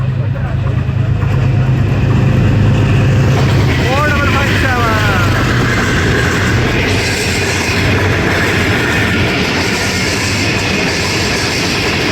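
The 103 Up Subh-e-Khurram railcar, led by a GO20 locomotive, rumbles past on the line between Lahoore and Rawalpindi, giving a loud, continuous close-range roar with a brief horn-like tone midway.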